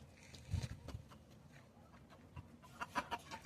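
Hens clucking in short, scattered bursts at moderate distance, with soft rustling and shuffling noises filling the gaps between calls, alongside a six-month-old rooster.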